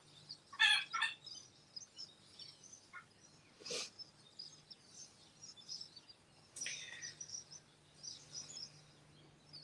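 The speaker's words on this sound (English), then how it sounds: "I think she's going to squawk herself hoarse." A pet bird squawks in loud, harsh bursts near the start, then gives fainter calls and another sharp squawk about two-thirds through, over a low steady hum in a quiet indoor room.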